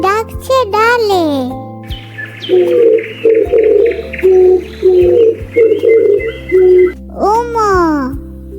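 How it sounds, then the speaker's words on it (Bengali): A spotted dove perched on a branch coos in a series of soft, rounded, evenly spaced calls, with a voice speaking just before and after. "ঘুঘু পাখি ডাকছে ডালে।"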